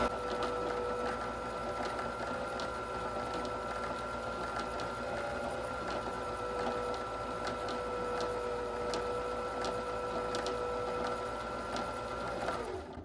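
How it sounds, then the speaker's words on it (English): A sewing machine winds thread onto a bobbin with a steady, continuous motor whir and mechanical hum that hold an even pitch for the whole stretch, close and moderately loud, ending with a slight change as it stops. "thread your bobbin till it's almost all the way full"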